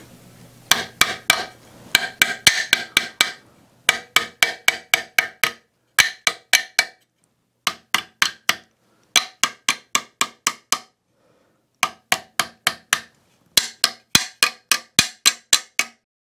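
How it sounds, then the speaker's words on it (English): Sharp metallic chasing-hammer taps dent folded sheet metal in quick bursts of five to eight strikes, separated by short pauses, close and crisp. "I'm going to be using my chasing hammer to hammer those areas down"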